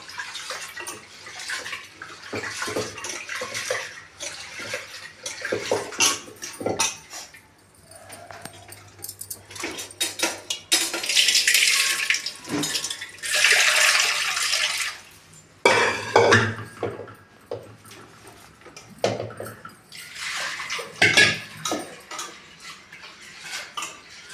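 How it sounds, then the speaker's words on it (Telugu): Lentils for tomato dal being washed in water in a steel vessel, with clinks and swishing, splashy water in bursts and a couple of louder pouring stretches, close and without speech. "నేను తాగే నీళ్ళతో ఇప్పుడు 2 సార్లు శుభ్రంగా కడుక్కున్నా"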